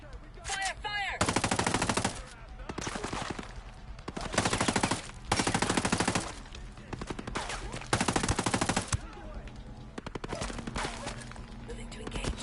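Bursts of automatic gunfire in the tactical shooter game Ghost Recon Breakpoint, loud and repeated in several long volleys, with game voices calling out between the shots.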